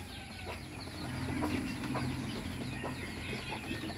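Several chickens cluck and murmur together in a small backyard coop, a steady close chorus of soft calls with occasional sharper clucks, no talking.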